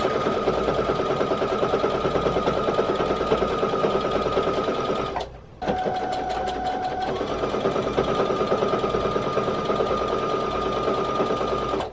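A sewing machine stitches quilt blocks at a steady fast whirr with a high mechanical hum, pausing briefly midway before resuming at the same pace, loud and close.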